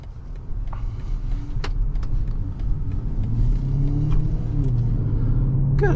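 A 2024 BMW X5 M60i with its V8 pulls steadily under acceleration, a deep engine rumble building and rising in pitch from inside the cabin, with light clicks and no talk.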